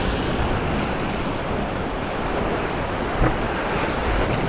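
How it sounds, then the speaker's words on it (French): Sea waves crash and churn against rocks on the shore, a loud continuous roar mixed with wind buffeting the microphone and one sharper splash near the end. "Donc les vagues éclatent sur les roches là."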